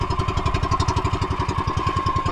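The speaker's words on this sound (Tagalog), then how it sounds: "Patayin na natin yung makina." A small fishing boat's engine runs steadily nearby, a loud, rhythmic chugging thump with a constant mid-pitched drone, heard alone without talking.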